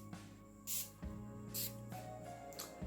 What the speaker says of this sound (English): I'm gonna set my face real quick because I cannot do that before I put on mascara with the Medusa makeup setting spray